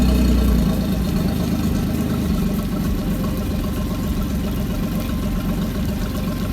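A Suzuki outboard engine that had no compression, with two engines paired together, runs steadily just after its first start, giving a loud, continuous, close engine drone with a low rumble.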